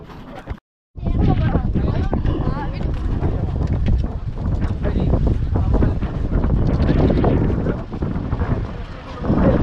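Strong gusts buffet the microphone on the Kannagi Hills trek along a jeep road, a loud continuous roar with a brief drop to silence near the start and voices speaking over it.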